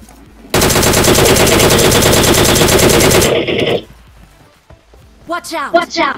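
Rapid sustained automatic gunfire from the mobile battle royale game BGMI, loud and continuous for about three seconds, followed by quieter game sounds and some brief voice at the end.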